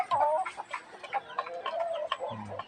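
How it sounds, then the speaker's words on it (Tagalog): A speckled hen clucks close by in a short series of bursts, with other fowl noises mixed in. "yung babae na yan na manok"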